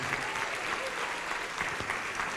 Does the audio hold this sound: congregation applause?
yes